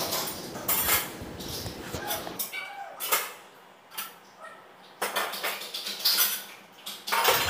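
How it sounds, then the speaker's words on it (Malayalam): Washed kitchen dishes and utensils lifted and set onto a shelf, with close clinks and clatters in irregular bursts separated by brief quiet gaps. "ഞാൻ തലേ ദിവസം കഴുകി വെച്ച പാത്രങ്ങളൊക്കെ ഷെൽഫിലേക്ക് എടുത്ത് മാറ്റുകയാണ്"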